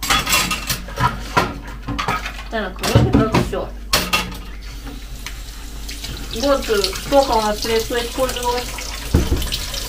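Running tap water splashes with clinks of dishes being rinsed and handled, while someone talks over it.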